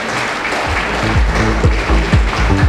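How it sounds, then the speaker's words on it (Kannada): Audience applauding to honor the chairperson at the inauguration of a parish hall, a dense, steady wash of clapping with low thumps running throughout. "ಎಲ್ಲರೂ ಎದ್ದು ನಿಂತು ಸಭಾಧ್ಯಕ್ಷರನ್ನು ಚಪ್ಪಾಳೆ ತಟ್ಟಿ ಸನ್ಮಾನಿಸಬೇಕಾಗಿ ವಿನಂತಿಸಿಕೊಳ್ಳುತ್ತೇನೆ"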